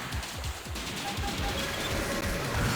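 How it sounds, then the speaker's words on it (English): Plasma cannon fire striking a mech in the video game Armored Core: Project Phantasma, a dense, continuous barrage of heavy impacts and crackling blasts with repeated low thuds, loud throughout. "there's that plasma cannon hitting us again"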